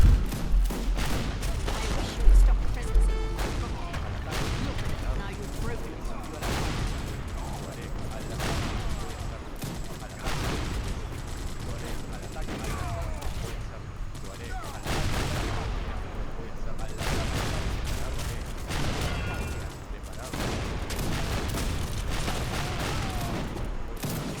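Field guns firing repeatedly in the strategy game Wars of Liberty, a dense series of booming cannon shots and crackling volleys over a long battle, with occasional talk underneath.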